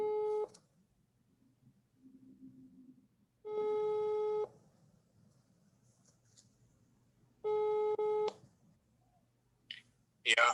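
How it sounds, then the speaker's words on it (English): A WhatsApp call's ringing tone sounds during a lecture, three loud, steady electronic tones spaced a few seconds apart against a quiet room hum, with faint clicks between. "Han, I'm going to call you on WhatsApp."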